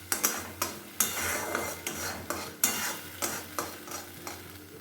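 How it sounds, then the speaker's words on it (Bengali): Spice paste with salt being stirred and fried in a pan for a white paneer dish, with rhythmic scraping strokes of a spatula against the pan about twice a second over a steady sizzle. "এবার ভালো করে একটু মশলাটা আমি কষিয়ে নেব"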